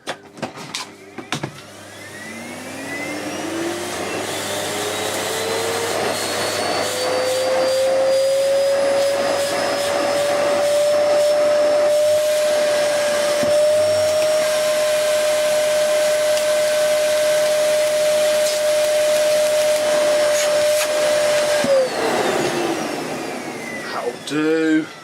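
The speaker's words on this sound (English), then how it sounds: "Just give this a bit of a vacuum off." A Hoover Dust Manager cyclonic cylinder vacuum cleaner, rated 2300 W, spins up with a rising whine, runs at a steady loud pitch for about twenty seconds, then shuts off and winds down. Faint handling noises sit under the motor.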